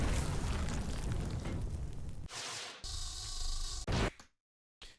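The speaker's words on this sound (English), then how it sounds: "So I think we have this initial explosion" A mecha demon chopper's death explosion effect: a loud sustained blast roar that dips, swells again into a harsher burst, then breaks off into silence before one last short pop.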